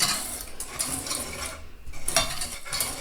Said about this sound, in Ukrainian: Все це перемішую вінчиком